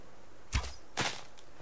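Arrow striking and snapping on impact in the survival crafting game Subsistence: two short crunchy bursts about half a second apart, the first with a low thud, moderately loud against a quiet background.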